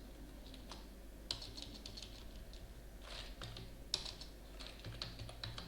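C++ code is typed on a computer keyboard in a quiet room, close and fairly soft. Irregular runs of key clicks are broken by a few sharper, heavier keystrokes and brief pauses.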